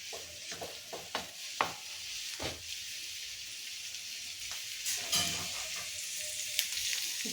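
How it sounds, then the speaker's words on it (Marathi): Onion frying in oil in a pan for matar paneer, a quiet, continuous hiss of sizzle with scattered spoon scrapes and knocks, close by, with no speech. "कांदा थोडासा लाल होईपर्यंत आपण परतून घेऊ"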